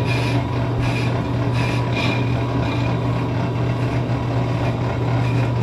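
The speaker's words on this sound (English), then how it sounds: "So now I'm going to slowly crank the lathe out." A brake lathe cutting the ridge off a car brake rotor gives a continuous grinding hum with a rough scraping texture, steady and close, with no talk.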